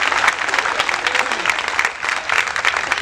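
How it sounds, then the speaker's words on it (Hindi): An audience at a Hindi comic poetry gathering bursts into loud, sustained clapping, dense and even throughout. "तो एक बार जोरदार ताली पीट दो।"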